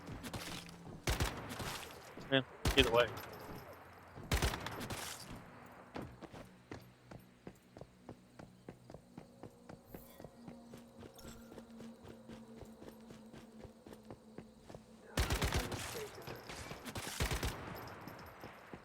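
Gunfire from a gun in the video game Once Human rings out as rapid, evenly spaced shots through the middle stretch, framed by louder bursts of impacts at the start and end, with a brief voice talking.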